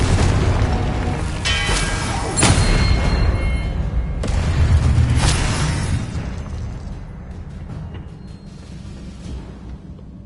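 Confringo blast spell from Hogwarts Legacy: a heavy booming explosion with deep rumble, a second sharp burst about two seconds in and another near four seconds, then a rolling tail fading out, loud and close with no talk.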